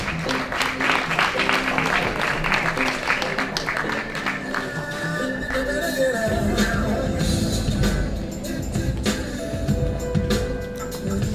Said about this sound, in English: another huge round of applause for this inspiring and insightful panel discussion